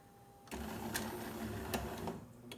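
A Jura A1 home espresso machine grinds coffee beans with a steady buzzing whir that starts abruptly and runs for about two seconds, heard quietly and up close.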